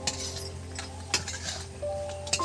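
A spoon clinks against a glass jar while salt is added to raw mango pickle, a few sharp metallic taps spread through a quiet kitchen with a low steady hum underneath.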